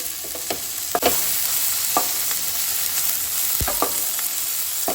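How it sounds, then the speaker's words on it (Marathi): Tomatoes sautéing in a pan for a Goan egg drop curry, a soft steady sizzle broken by occasional spatula scrapes and knocks against the pan, no talking. "तर 1-2 मिनटां खातीर टमाट जे आसा पळय न्हू ते हांव हितून परतून घेता."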